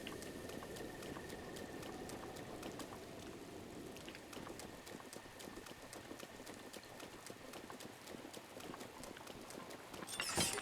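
Steady rain hisses across a landscape in Zelda: Breath of the Wild, with a scatter of light ticking footfalls beneath it and a slightly louder gust of noise near the end; no one speaks.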